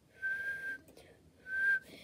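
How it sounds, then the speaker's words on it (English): Two sustained referee whistle blasts in a hockey video game, each lasting about half a second with a short pause between them, clear and fairly loud over a quiet background. "Official blows the whistle saying get on the draw list."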